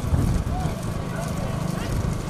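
Hooves of racing bulls pound along the track during a bullock cart race, a steady rapid drumming heard under continuous loud announcer commentary.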